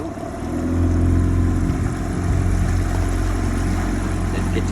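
The outboard motor of an inflatable boat with an aluminium floor runs with a loud, steady, low engine drone close by, rising slightly after the first second and holding even.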